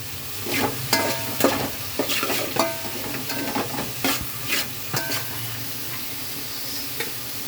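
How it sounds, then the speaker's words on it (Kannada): Salt, turmeric, chilli and coriander powders fry in a pan for vade saaru, a crackling sizzle punctuated by rapid, rhythmic spatula strokes that thin out toward the end. "ರುಚಿಗೆ ತಕ್ಕಷ್ಟು ಉಪ್ಪು ಅರಿಶಿನ ಪುಡಿ ಖಾರದ ಪುಡಿ ಧನಿಯಾ ಪುಡಿ ಎಲ್ಲ ಹಾಕ್ಕೊಂಡು ಸ್ವಲ್ಪ ಫ್ರೈ ಮಾಡ್ಕೋಬೇಕು"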